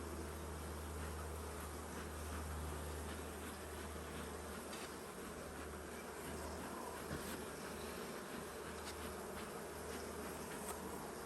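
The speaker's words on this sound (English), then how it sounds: "You can see the bees feeding the queen through the cage." A dense, steady hum of honeybees buzzing continuously around a caged queen in a hive, close and even, with no voices.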